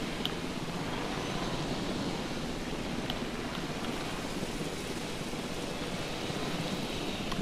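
Steady rain and storm wash in the Jurassic World Evolution video game, a dense, even hiss filling the whole stretch with a low rumbling bed, constant and unbroken, with no voices over it.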